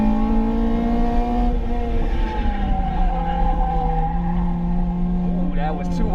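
A Mazda RX-8 drifts at a track event with a sustained, wavering engine whine and tire noise, heard over several engine tones while a person talks.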